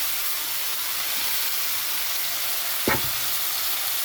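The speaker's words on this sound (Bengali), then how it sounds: "এখন ভেজে রাখা আলু আর উচ্ছেটা দিয়ে দিচ্ছি।" Fried potatoes and bitter gourd go into a hot pan of oil and spices, with a continuous close sizzling hiss broken by one brief thump and crackle burst.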